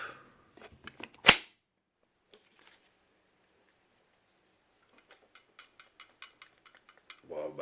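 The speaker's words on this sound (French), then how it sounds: "Il y a un seul crochet qu'on entend." ESEE 6 knife sheath hook clicking into place, one sharp loud snap followed by faint scattered ticks and small plastic clicks in a quiet room.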